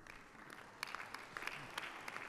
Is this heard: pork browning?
no